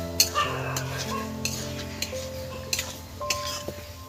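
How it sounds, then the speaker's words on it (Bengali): Chicken in masala is stirred and fried in a pan, with a spoon scraping and clinking against the metal in irregular strokes over a low background hum, and brief faint sizzling. "একদম এই মশলাতে একদম নেড়ে চেড়ে কষে নেবো বন্ধুরা"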